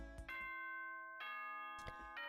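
A school announcement chime from the Danganronpa video game rings out as sustained, bright bell tones in a ding-dong pattern, fairly quiet, with struck notes recurring and ringing on between strikes, no speech.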